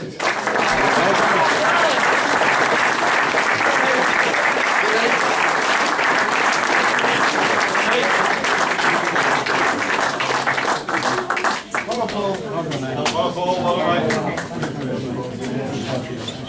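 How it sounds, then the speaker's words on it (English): Sustained audience applause at a Stafford Rangers end-of-season football club awards ceremony, dense continuous clapping from a crowd of people, loud throughout and thinning slightly toward the end with some chatter. "So we all have a big clap for these."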